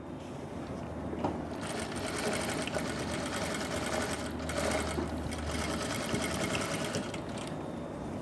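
Sewing machine stitching a blouse belt, a continuous rapid mechanical whir and needle clatter running close and steady throughout.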